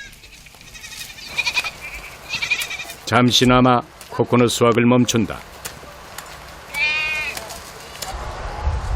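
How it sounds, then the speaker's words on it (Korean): Goats bleating at a coconut farm in the Philippines, a few loud nearby bleats rising over a steady outdoor background, with a voice speaking between them. "코코넛과 함께 떨어지는 잎을 보고 달려드는 염소들."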